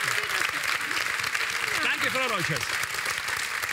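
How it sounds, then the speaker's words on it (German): Studio audience applause at a comedy TV show, steady clapping heard under a voice as he speaks a short thanks. "wir verabschieden Sie mit einem großen Applaus"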